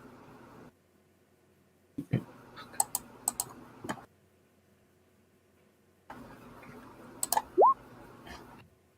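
Keyboard typing in the space sim game Starshatter: two bursts of rapid clicking keystrokes over a steady low hum, separated by a quiet gap, with a brief rising electronic chirp near the end.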